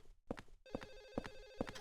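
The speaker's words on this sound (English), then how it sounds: "This phone is just keeps ringing until we go and pick it up." A telephone rings in the Silent Hill 4 apartment, its bell sounding in four evenly spaced bursts, faint but distinct, with no talk.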